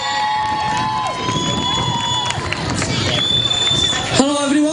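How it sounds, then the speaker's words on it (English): Festival crowd at a Liverpool carnival stage cheering and whooping as a ska band is welcomed on, a loud, dense roar of voices and shouts sustained throughout, with a brief sharper sound near the end. "Give a big round of applause and a big welcome,"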